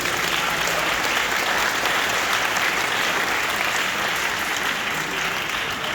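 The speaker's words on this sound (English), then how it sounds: "Let's give them another round of applause" A sustained, even round of applause from an audience at a Ukrainian community celebration, many hands clapping steadily and loudly throughout without pause.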